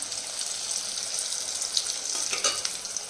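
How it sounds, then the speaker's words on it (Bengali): Brinjal slices frying in a pan give a steady bright sizzle throughout, with brief louder crackles near the end and no voices. "তো বেগুনটা ভাজা হতে থাক"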